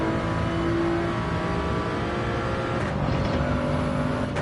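Race car engine driven around the Dragon Trail circuit in a racing video game, a steady loud droning note with a shift in pitch near the end, continuous and up close with no talk.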